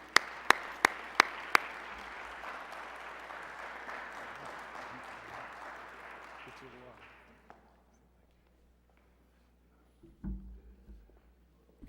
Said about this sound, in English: let's bring him on with a round of applause